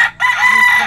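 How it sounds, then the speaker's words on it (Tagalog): A fighting cock kept by an owner in a rural yard crows loudly and close, a single short burst of the call with no talking over it. "At may alaga si tatay na manok."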